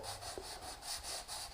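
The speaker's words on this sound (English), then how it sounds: "I am just now finishing up my sanding of the second coat in the nail holes" Light hand sanding of filled nail holes on baseboards gives soft, close rubbing strokes in a quick back-and-forth rhythm, faint and brief.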